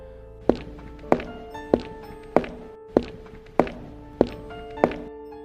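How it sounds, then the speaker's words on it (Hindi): Eight heavy footsteps thud on an upper floor at an even, unhurried pace, each a hollow, resonant knock from overhead with no other sound between them. "ऊपर की मंजिल से कदमों की आवाज आने लगी।"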